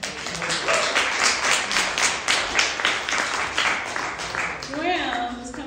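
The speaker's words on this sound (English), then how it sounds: "We're going to clap him all the way here." A poetry reception audience applauds as a speaker comes to the stage: steady, moderately loud crowd clapping throughout, with a voice speaking briefly near the end.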